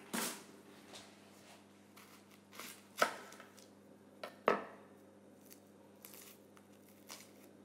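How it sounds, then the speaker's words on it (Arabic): A knife cuts an onion into wedges on a board, giving a few sharp, isolated chops spaced seconds apart over a low steady kitchen hum, with no talking. "نقطع البصل جوانح"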